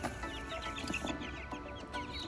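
Chickens cluck steadily in an outdoor pen, a dense mix of short overlapping clucks and chatter from several birds close by over a constant farmyard background.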